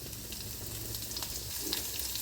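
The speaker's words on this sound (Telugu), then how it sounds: "మూకుడు వేడి చేసుకొని ఆయిల్ వేడెక్కిన తర్వాత జీలకర్ర, ఇందాకలు మనం తరిగి ఉంచుకున్నాం కదండి పచ్చిమిర్చి" Cumin seeds and green chillies fry in hot oil in a pan, a soft continuous sizzle with faint crackles and a few light stirring ticks, fairly quiet, with no talking.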